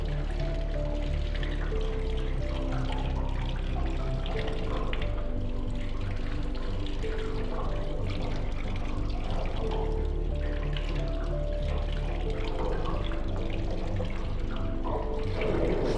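A tap runs steadily, water rushing and splashing over hands as soap is rinsed off during a surgical hand scrub, loud and continuous throughout with no pauses.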